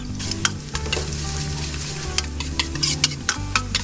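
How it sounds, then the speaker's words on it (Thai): Minced garlic sizzles steadily in hot oil in a pan for Thai shrimp-paste fried rice, with a constant crackling fry and frequent sharp scraping clicks of a spatula stirring it. "ก็ลงกระเทียมสับได้เลยครับผัดกระเทียมของเราให้สุกหอมก่อนนะคร ับ"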